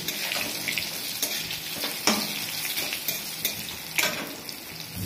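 Steady oil sizzle of pointed gourd frying in a pan, with occasional scrapes and clinks of a spatula stirring, close and continuous, no voices.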